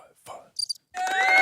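Crickets chirp in a short burst of shrill, continuous trilling that swells up loudly after a couple of faint sound-effect chirps.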